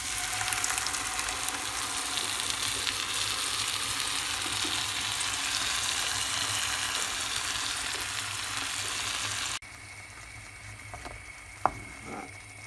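Peppers, tomatoes and spinach purée sauté in a pan, with a loud, continuous close sizzle that drops abruptly to a quieter hiss near the end, broken by a single sharp knock.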